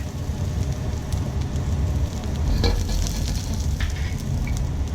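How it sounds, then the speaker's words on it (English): Garlic stir-fries in hot fat in a pan, giving a steady close sizzle and crackle with occasional brief scraping from stirring throughout. "And then we're going to be stir frying the garlic."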